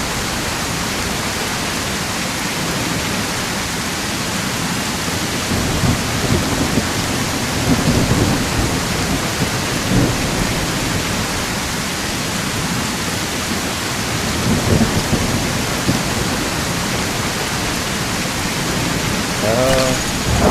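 Steady rain with low rumbles of thunder rolling through at intervals in a game set in The Isle Evrima, a continuous broadband wash with a few heavier swells, no talk.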